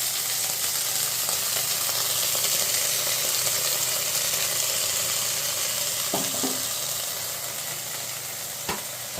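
Fish parcels wrapped and pinned with toothpicks fry in a small amount of oil in a kadai, giving a dense, continuous sizzle that eases slightly near the end, with a few faint clicks and no talking.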